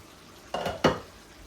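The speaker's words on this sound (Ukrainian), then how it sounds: "перемішую" Two quick scraping strokes of a spoon stirring tomato pasta sauce in a pan, each a short, fairly close swish, with quiet pauses around them.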